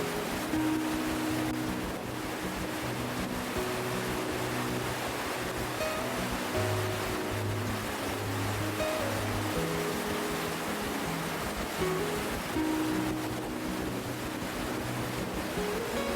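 Water rushes continuously at Aldeyjarfoss, an Icelandic waterfall, a steady broadband roar with no breaks, while quiet music plays underneath.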